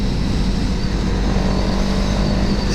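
CF Moto 700 CLX Heritage parallel-twin motorcycle under way, a steady, loud engine drone with rising revs and a rushing wind roar throughout.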